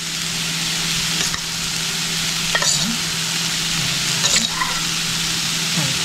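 Grated coconut being stirred into crushed dry fish for a Kerala-style chammanthi, with a steady scraping and mixing texture over a constant sizzle-like hiss, a few louder scrapes standing out, and no talking.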